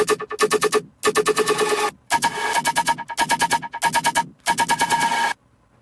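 Rhythmic Serum synth patch morphed toward a sample, chopped into fast gated stutters in several bursts with short gaps, bright harmonic tones, loud and alone before cutting to silence.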